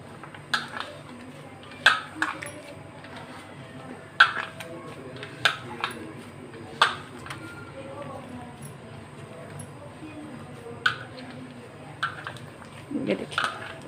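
A spoon scrapes and knocks against a bowl while spiced potato tikki mixture is stirred, giving irregular clinks spread across the stretch, with someone talking over the work.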